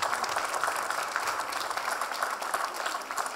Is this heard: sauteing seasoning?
no